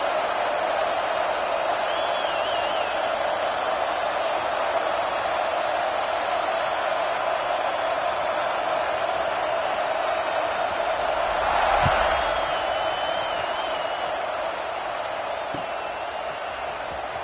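Stadium crowd noise in a college football video game against Michigan, a sustained roar filling the background with a brief swell near the middle, while a commentator's voice sits over it.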